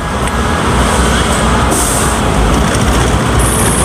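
A PNR air-conditioned commuter train passes close by on a Manila line, a loud, steady rumble of wheels on rail with broadband roar and brief high squeals, no voices over it.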